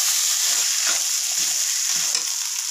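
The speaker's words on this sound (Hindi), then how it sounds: "अब हम इसमें डाल देंगे ये चावल। चावल को हमने धो के रखा था पहले से। इसको हम भून लेंगे थोड़ी देर तक।" Washed rice roasting in a pan with ginger gives off a steady, bright sizzle with faint scraping stirs, close and continuous, with no talking.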